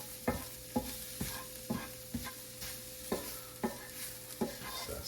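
Chili powder is stirred and toasted in a pan, a spoon scraping in regular strokes roughly every half second over a soft, steady sizzle.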